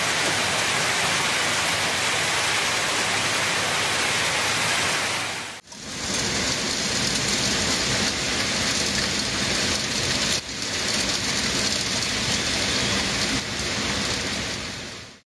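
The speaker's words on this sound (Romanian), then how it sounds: "Așa a arătat vremea în Prahova în ultimele două zile, unde grindina a căzut în mai multe zone" Hail and heavy rain falling during a storm in Prahova, Romania, a loud continuous hiss of dense drops pounding nearby surfaces, briefly dipping mid-clip before resuming with a sharper sustained tone, no voices.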